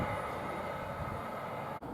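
A Swansea-bound Class 802 train passes through Goring & Streatley station on the Great Western Main Line as a steady, broad rushing roar, with wind on the microphone and one sharp clunk near the end.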